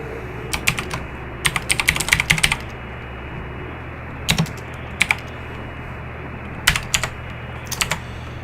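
Keys clatter on a computer keyboard during play of the game Stories Untold, close and crisp in short bursts of rapid typing separated by pauses, over a low steady hum.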